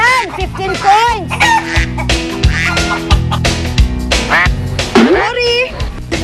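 Loud, agitated turkey calls and squawks overlap throughout, with frantic clucking and crowing-like cries alongside excited human shouting and talking nearby as people try to corner them.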